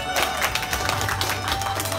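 Applause from an audience at a live magic show in Mazu New Village, a steady wash of clapping and faint crowd noise under low background music, moderately loud throughout.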